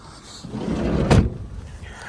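The sliding side door of an Opel Combo passenger van slides and shuts with a single solid thud, close by, while a person talks nearby.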